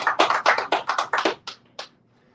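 A few people clapping for themselves at a Caribbean panel discussion on free speech restrictions, about nine sharp, close claps in an uneven rhythm that thin out and stop, with no talk over them.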